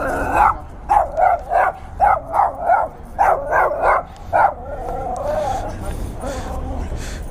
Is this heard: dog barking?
yes